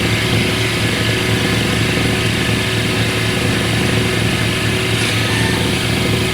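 A metal lathe makes a finishing pass on a profiled part turning at 1500 RPM, giving a steady, dense mechanical hum and hiss with no pauses and no voices.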